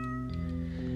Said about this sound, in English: Oh wow, that was quite some purrin'.